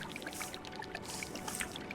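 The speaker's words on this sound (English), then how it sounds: "Water." Soft trickling and pouring water in the video game Terra Nil, a quiet continuous gurgle with small bright droplet blips, steady and alone without talk.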